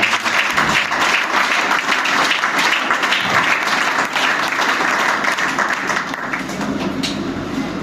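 Applause and cheering from a church congregation during a sermon, a dense, loud, continuous wash of clapping and voices that holds steady from start to finish.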